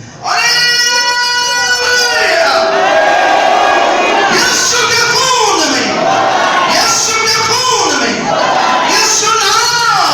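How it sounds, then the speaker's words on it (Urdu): A church congregation lets out a loud, sustained shout during a worship service, many voices rising and falling in long swelling waves for about ten seconds. "ایک بلند نعرے سے خدا کے کلام کی تاثیر کریں"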